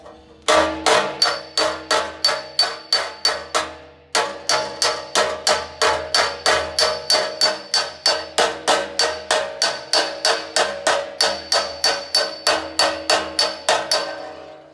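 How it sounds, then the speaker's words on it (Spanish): A hammer beats out dents in a car body panel patch over an aftermarket replacement part, striking in a steady run of sharp metallic blows at about two per second, with one short pause, loud and close, no talking. "se puede tocar con el martillo tranquilamente, plancha"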